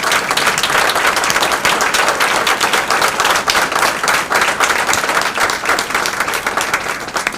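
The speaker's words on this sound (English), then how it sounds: "If you would give them a round of applause," A large school audience gives loud, sustained applause for the school principals, the dense clapping filling the whole stretch and fading slightly at the end.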